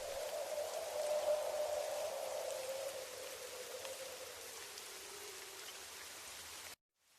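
A steady, even hiss of rain falls outside a shop at night, with no breaks, fading slightly before cutting off abruptly near the end.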